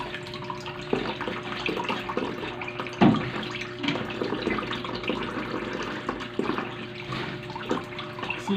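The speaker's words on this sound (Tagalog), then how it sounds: "Maghugas na tayo." Tap water runs steadily into a sink while dishes are washed, a continuous moderate splash broken by occasional clatters and knocks of dishware, with no talk.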